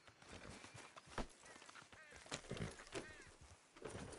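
Horse hooves clip-clop irregularly in the video game Red Dead Redemption 2, soft and fairly close, mixed with other faint game sounds and voices speaking.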